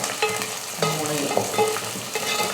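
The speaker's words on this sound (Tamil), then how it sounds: "இப்போ இது ரெண்டையும் ஒரு 2 நிமிஷத்துக்கு வதக்கிக்கலாம்." Garlic and dried fish sizzle and fry in a hot pan while a utensil stirs and scrapes repeatedly, close up, with no talking.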